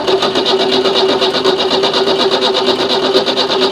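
An abandoned car's engine is cranked by touching the ignition wires together, with fuel fed from a canister into the fuel line; it gives a loud, steady, rapidly pulsing mechanical churn throughout, close up.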